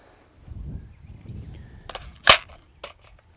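One sharp, brief gunshot from a 12.7x42 50-caliber AR-15 upper fired outdoors at a steel target, preceded by faint rustling and followed by a soft distant clank, with no talking.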